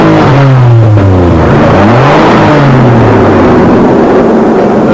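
A loud Citroën SM engine, tuned to 300 horsepower, revs up and down repeatedly, its pitch rising and falling in sweeping swells, close and continuous.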